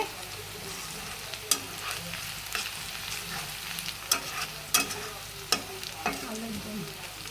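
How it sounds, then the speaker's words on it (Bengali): Boiled potatoes for aloo dum are stirred in a pan, producing a continuous frying sizzle broken by sharp scraping clinks of the spoon at irregular intervals. "এখানে আমি আলুর দম রান্না করতেছি"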